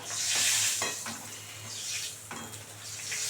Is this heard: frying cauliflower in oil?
yes